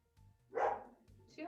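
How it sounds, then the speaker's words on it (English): A dog barks at the mailman: a few sharp, mid-distance barks and yips in quick succession, fairly quiet and set against a soft background murmur. "My mailman's here. That's why my dog is barking."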